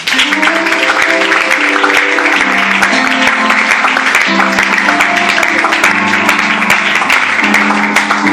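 Church congregation clapping together in dense, steady applause that fills the whole stretch, with sustained sung or played tones running underneath and no clear speech.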